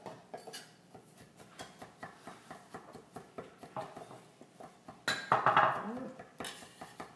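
Garlic being minced with a Zwilling kitchen knife on a cutting board: quick, rhythmic knife taps at close range that grow into a denser, louder flurry near the end, with soft voices in the background.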